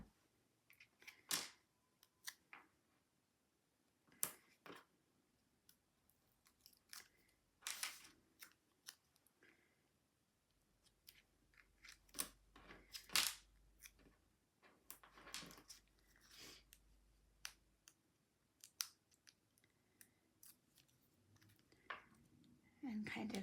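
Scissors cutting squares of foam tape for a card craft: scattered close, crisp snips and crunches in irregular bursts, with soft handling noises between them.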